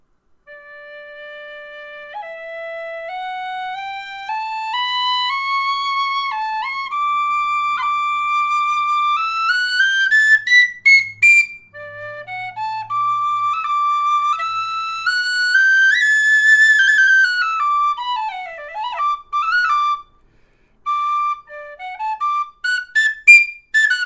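A Compass high D tin whistle plays a scale, clear pure notes stepping upward one after another, then descending with a few short pauses and quick flourishes near the end, played alone and close.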